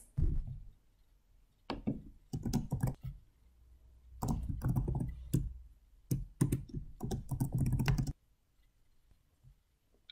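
Typing on a computer keyboard while entering details into an online portal: bursts of quick close clicks and keystrokes separated by short pauses, with no voices.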